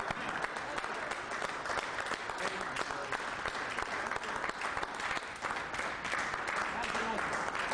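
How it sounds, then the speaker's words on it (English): Sustained audience applause at the end of a common law class lecture, a continuous, even roar of many hands clapping at moderate level for several seconds without a break. "let's have a round of applause for Bill Thornton"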